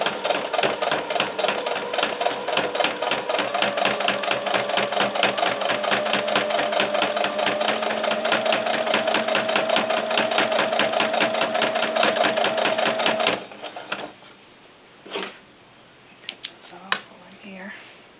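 A sewing machine stitches a doll-sized cowboy hat with a short stitch length, running in a steady rapid rhythm for about thirteen seconds. It then stops, leaving a few faint handling clicks and knocks.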